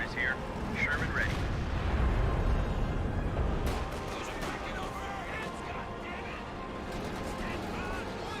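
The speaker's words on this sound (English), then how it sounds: "Siege barrage now active right here." Siege barrage artillery fire in Company of Heroes 2, a rumbling, dense stretch of distant shelling and blasts that swells over the first few seconds and then keeps rolling steadily beneath a voice.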